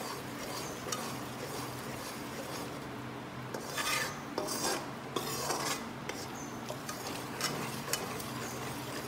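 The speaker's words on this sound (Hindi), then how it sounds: "इसे हिलाते रहिए धीरे धीरे" Atta halwa being stirred slowly in a pan, giving a steady soft scraping and rasping with a few louder scrapes toward the middle, close by and without talk.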